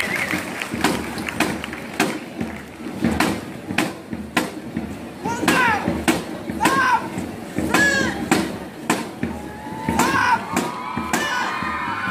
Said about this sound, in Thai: เสียงปรบมือให้กับคณะสถาปัตยกรรมศาสตร์ด้วยค่ะ